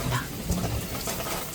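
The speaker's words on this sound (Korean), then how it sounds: "이내 굵은 빗방울이 쏟아졌다." Heavy rain pours down in an old Korean folk drama scene, a dense wash of falling water with some low thumps, moderately loud and without speech.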